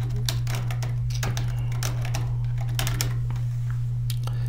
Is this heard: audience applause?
no